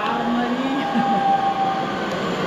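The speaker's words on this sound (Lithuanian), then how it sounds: "Varo mūsų traukinys" A train pulls into a station near Copenhagen and Malmö, a steady rolling rumble with faint tonal squeals from wheels or brakes throughout.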